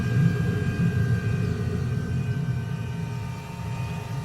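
A De Havilland Venom jet with its Ghost engine taxis in a flight simulator, giving off a steady low rumble and droning engine noise with faint high whine tones, continuous and fairly loud with no talk.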